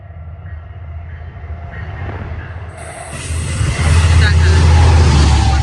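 A deadhead train passes Mineola station on a Friday night, its rumble building from a distant approach to a loud, close roar with rising rail and wheel noise toward the end; people talk nearby.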